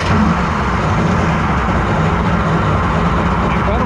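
An 1100 mini jetboat engine idles steadily and loudly up close, a continuous low rumble that holds even without a break through the whole stretch.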